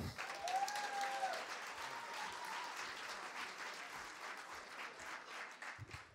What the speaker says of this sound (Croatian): Pa vas molim jedan veliki aplauz za Branka Požgajca.